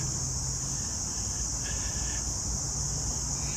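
Cicadas buzz steadily in trees beside a shaded park path with benches, a continuous high-pitched drone lasting the whole stretch, with faint low traffic-like rumble beneath and no speech.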